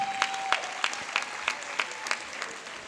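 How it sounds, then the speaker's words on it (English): A small group claps in a loose, even rhythm, roughly three claps a second, fairly close and lively for a few seconds with no talking, at a high school graduation ceremony. "So give yourselves a round of applause again."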